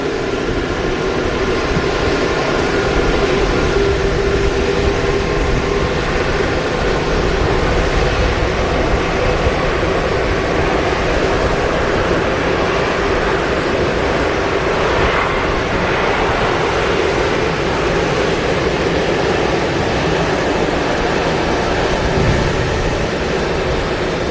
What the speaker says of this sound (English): Great sound there from the 380, just putting a bit of thrust on to get the big beast moving again.